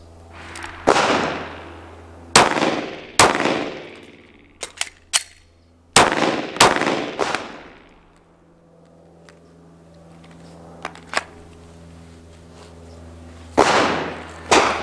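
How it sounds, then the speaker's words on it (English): Pistol shots from a shooting drill in which a spare magazine is loaded: loud, sharp cracks come in small groups with short gaps, each ringing off outdoors, with a quieter stretch between volleys. "load with the spare mag and fire you two rounds"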